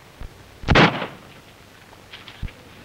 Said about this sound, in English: shoot a hole through my hat so it'll look like we put up a fight